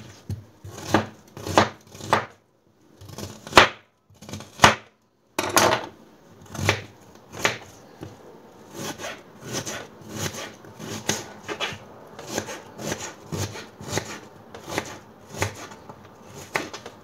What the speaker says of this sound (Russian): Теперь нарезаем кубиками лук.